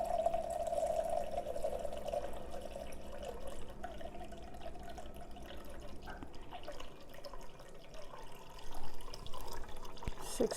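Coffee liquid is poured into a home coffee machine, a soft steady trickle and splash that runs quietly for several seconds before fading into faint clinks and handling noises.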